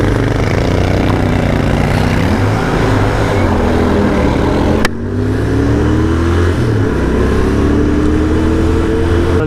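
Royal Enfield Continental GT 650 motorcycle ridden on a road, its twin-cylinder engine droning loud and close with rising and falling pitch through gear changes, a brief dropout midway, and steady wind rush throughout.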